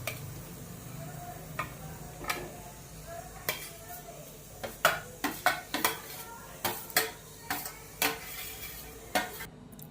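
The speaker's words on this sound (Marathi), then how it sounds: "ते आपण आता कढईमध्ये ओतून घेऊया।" Raw mango slices tumble into a wok for jaggery preserve, giving a run of sharp clattering knocks and scrapes, sparse at first and then rapid and close, over a low steady background hum.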